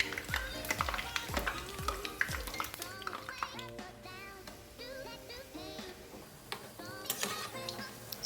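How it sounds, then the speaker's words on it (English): Nigerian rock buns frying in hot oil, a busy crackling sizzle mixed with stirring scrapes and utensil clicks against the pot, close and fairly loud, with a voice talking over parts of it. "I'm just going to turn the bun to the other side so that it will also fry as well."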